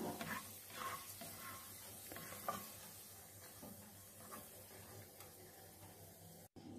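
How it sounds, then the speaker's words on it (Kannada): Raisins frying in ghee in a pan give a steady, fairly quiet sizzle, with soft scraping and stirring knocks now and then and a brief gap near the end. "ದ್ರಾಕ್ಷಿ ಅಂದರೆ ಫ್ರೈ ಆಗ್ತದೆ"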